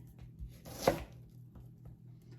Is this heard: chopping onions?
yes